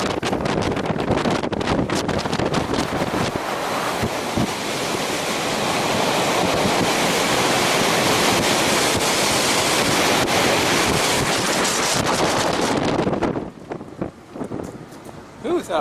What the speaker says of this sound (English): that wind's stiff when you get in it